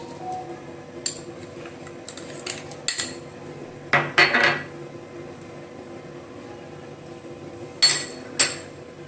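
Paneer and cheese go into a mixer jar while making a no-oven mango cheesecake, bringing a few scattered, sharp clinks and knocks of utensils against the jar. The sounds come in small bursts over a quiet kitchen background.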